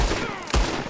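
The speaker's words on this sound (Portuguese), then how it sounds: "Oh, droga, eu atirei sem querer." A single accidental gunshot from a firearm in Red Dead Redemption 2 bursts out loud and close, followed by a brief echoing tail.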